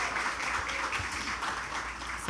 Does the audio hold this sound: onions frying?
no